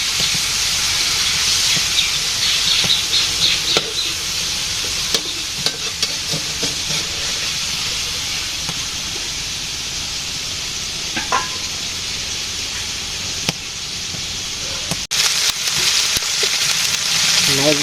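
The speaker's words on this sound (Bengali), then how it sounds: "মাছ ভাজি হয়ে গেছে।" Fish frying in an oil-filled pan gives off a loud, continuous sizzle and hiss, with occasional clinks and scrapes of a utensil, steady throughout.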